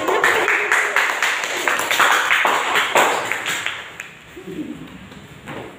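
Students in a classroom clap for their classmates, a busy patter of many hands that stays steady for about four seconds, then thins out as a voice speaks over the fading tail.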